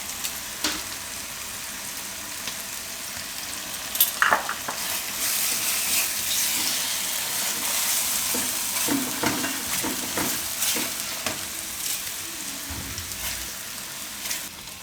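Gravy for dum aloo sizzles gently in oil while a spoon stirs it, with soft scrapes and a few clinks over a steady crackle at moderate volume.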